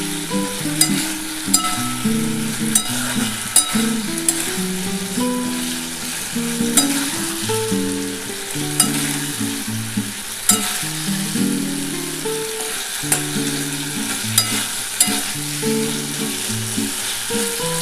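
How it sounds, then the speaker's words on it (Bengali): Drumstick pieces and potatoes sautéing in a pan with little oil and mild spice: a continuous close sizzle with scattered pops and clicks from stirring, steady for the whole stretch over a low tonal hum. "দেখো বন্ধুরা খুব ভালোভাবে কষিয়ে নিয়েছি"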